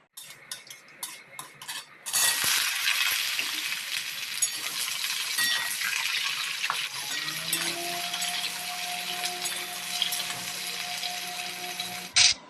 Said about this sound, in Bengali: ঝিঙে আলু কুমড়ো পুঁইশাকের ডাটা সব একসাথে দিয়ে দিয়েছি ফোড়নে